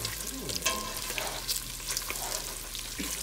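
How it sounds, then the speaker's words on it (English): Chopped bacon, five strips cut up, frying and rendering its fat in a pan for a roux base, a steady low crackle with a few sharper pops and light stirring scrapes, moderately faint and without talk. "I have 5 pieces of bacon that I cut up and I'm rendering down"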